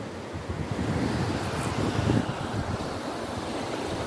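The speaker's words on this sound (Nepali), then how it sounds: "खोलाको बिचमा छु साथी हो। ल हेर्नुहोस् त, खोला मिलमिल गरिरहेछ।" A river rushes beneath a bridge in western Jajarkot, a loud, steady roar of flowing water with gusty wind buffeting the microphone and no talking.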